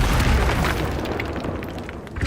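A Confringo spell bursts in Hogwarts Legacy, a loud booming explosion with a heavy low rumble that decays over about two seconds, no talk over it.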